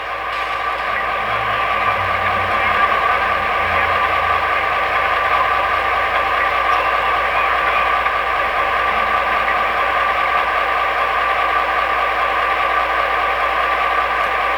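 Steady, unchanging idle drone from a GP15-1 model locomotive's Tsunami 2 sound decoder, a continuous diesel rumble with a broad hiss, fairly loud and alone with no speech.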